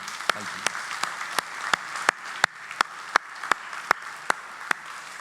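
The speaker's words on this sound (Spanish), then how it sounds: "te brindes un fuerte aplauso por venir hoy aquí a Vidaín" A congregation at a church gathering applauds itself for attending, a crowd's steady clapping with one nearby person's sharp, evenly spaced loud claps punching through in a regular rhythm, roughly three per second.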